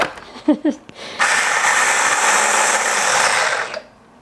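A kitchen blender or food processor mincing cauliflower for a healthy pizza crust runs as a loud, steady whirring grind for about two and a half seconds and then cuts off. A few brief voice sounds come just before it starts.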